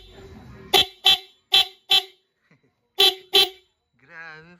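A dual horn newly fitted to a motorcycle blasts in six short, loud, close honks, first four in quick succession and then two more after a pause, and someone speaks briefly at the end.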